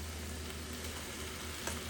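Boiled field beans (avarekalu) hit a pan of frying onion tempering, giving a steady, close hiss and crackle of hot oil with no voices.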